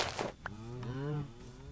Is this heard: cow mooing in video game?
yes